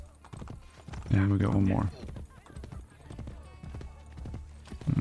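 Horse hooves clip-clop at a gallop in Assassin's Creed Brotherhood, a quick steady beat with a brief neigh, heard under someone talking over the game.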